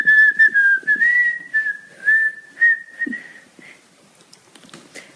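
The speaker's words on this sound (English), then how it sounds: "so I'm going to whistle." A person whistles a wavering, sustained melody alone at close range, the tune gliding between notes in a few connected phrases before trailing off into quiet room noise.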